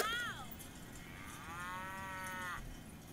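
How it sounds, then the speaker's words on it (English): A Fisher Price Little People animal sound toy plays a recorded cow moo, a short rising-falling call followed by a longer drawn-out moo, clear and close over faint background hiss. "The cow says, moo."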